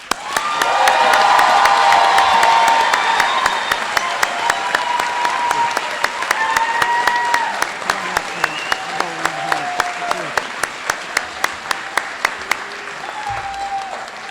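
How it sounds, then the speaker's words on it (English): Graduates of a college graduation ceremony receive a large audience's loud, sustained applause, mixed with cheers, whoops and children's shouts, while sharp individual claps stand out near the end as the ovation fades. "Let's applaud these graduates."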